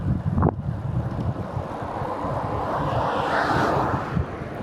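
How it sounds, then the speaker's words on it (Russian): Strong wind buffets the microphone while cycling through open steppe, a loud continuous roar with gusty rumbling throughout and no voices. "Ветер в лицо."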